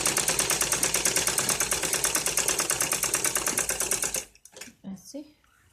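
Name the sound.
sewing machine stitching a net cloth ladies suit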